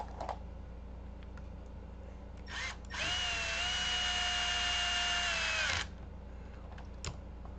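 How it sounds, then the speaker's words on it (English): Power wrench with a soft clutch, used while building a Team Associated T6.4 RC carpet truck, giving a short blip and then a steady high whine for about three seconds before stopping. "This is a pretty good power wrench too. That it's got a pretty soft clutch in it."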